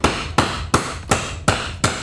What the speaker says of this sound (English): Matt's just gonna grab a chisel and just knock that thing out